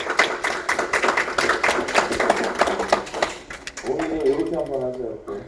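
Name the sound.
congregation applauding for the sisters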